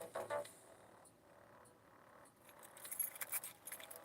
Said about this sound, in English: Can't forget the truck keys in here.